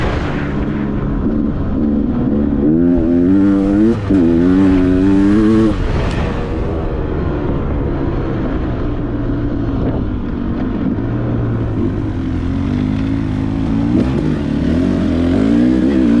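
A KTM 300XC or Beta 300RR two-stroke dirt bike engine revving, rising and falling throttle blips early on then a steady loud drone, close and continuous with wind noise.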